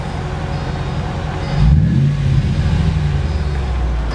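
A 2001 Mercedes-Benz G500, European version, with 112,000 miles, idles with a deep rumble, then blips its engine in a short rev that swells and settles back to a loud, steady low idle, close up with no talking.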